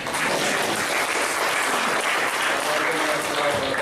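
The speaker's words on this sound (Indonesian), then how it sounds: "Aplaus buat kita semua." An audience applauding at a discussion event, dense steady clapping throughout, loud and close, with a voice faintly under it.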